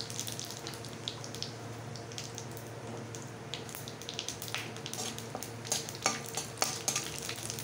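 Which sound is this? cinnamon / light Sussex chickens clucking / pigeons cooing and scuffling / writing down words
cinnamon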